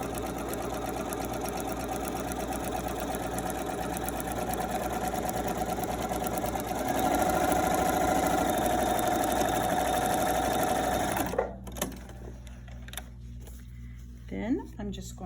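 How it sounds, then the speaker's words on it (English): A sewing machine runs steadily while stitching a quarter-inch seam through pinned quilt blocks, a continuous close mechanical whir that stops abruptly near the end, leaving a few faint handling sounds. "Now I'm going to sew my 1/4 inch seam."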